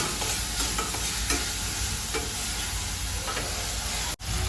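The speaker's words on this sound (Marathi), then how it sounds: "तेलामध्ये मस्त कांदा फ्राय करून घ्यायचा असा लालसर झाला पाहिजे कांदा" Onion frying in hot oil until reddish, giving a steady, dense sizzle up close with faint stirring clicks and a brief dropout near the end.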